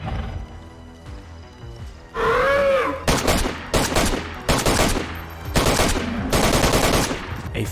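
AK rifle gunfire in DayZ, several loud bursts of automatic fire separated by short pauses, preceded by a creature's whinnying growl.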